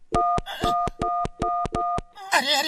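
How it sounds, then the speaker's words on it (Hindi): Cartoon character dialing a public phone booth: a rapid run of about eight sharp, evenly spaced keypad tones, loud and close, with a cartoon voice speaking briefly between them and at the end. "मैं अमेरिका अपनी मम्मी को फोन लगा रहा हूँ।"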